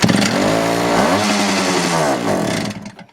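A Ural motorcycle's engine, long unused and with a carburetor that isn't delivering fuel, is cranked and sputters in a loud, close, rough burst for under three seconds before dying away.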